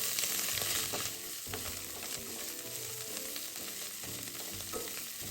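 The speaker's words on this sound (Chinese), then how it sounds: "一直拌炒至锅里食材溢出香味后" Chili bean paste stir-fried in a hot wok for mapo tofu, a steady loud sizzle with the scrape and clatter of a spatula tossing it in repeated strokes throughout.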